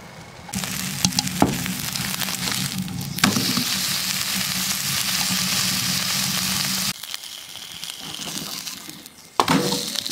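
Burgers sizzling and frying on a woodstove inside a glamping tent, a steady close crackling hiss that cuts in and out a few times, with no talking.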